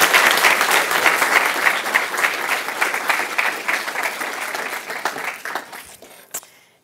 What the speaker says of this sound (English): So please give a round of applause for Jessica Engel.